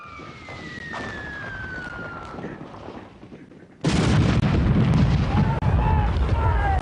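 Artillery bombardment of the Verdun battlefield in the First World War, heard as loud, continuous booming and rumbling explosions that start abruptly partway through, after a quieter passage with a whistling tone.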